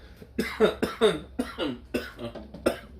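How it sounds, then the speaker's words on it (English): A person coughs repeatedly in a rapid run of harsh, close coughs, about eight bursts in three seconds. "That's too much coughing."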